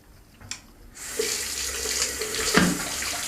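Tap water runs to rinse a shaving razor, a faint trickle swelling into a steady splashing stream at close range, with a couple of brief knocks as the razor meets the flow.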